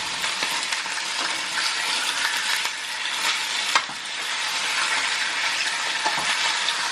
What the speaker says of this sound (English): I'm just gonna grab the tongs so I can turn the meat